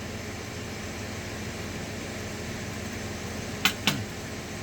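Air conditioner running indoors, set to a low setting, gives a steady, even broadband whoosh throughout, with two brief sharp clicks near the end.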